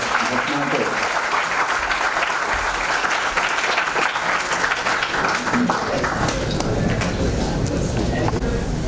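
Loud, continuous applause from a large crowd at a student organisation's entrepreneurship event during a lamp-lighting ceremony in India, thick steady clapping throughout with voices mixed underneath.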